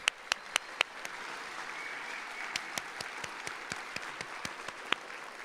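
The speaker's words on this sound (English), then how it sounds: "Let's give them another round of applause." Guests at a health professions school graduation ceremony give a round of applause, a soft distant wash of clapping led by several loud, sharp nearby hand claps at the start and scattered close claps throughout.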